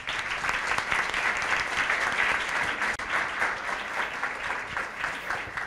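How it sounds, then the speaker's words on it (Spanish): A dense, steady wash of audience applause fills the room at a circular-opportunities pitch event held at a museum, continuous and loud with no break, fading only slightly toward the end. "Otro aplauso."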